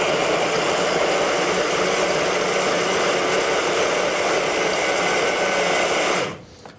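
A small food processor minces pork for spicy rissoles with a loud, steady whirring motor drone, close up, cutting off abruptly near the end, with no talk.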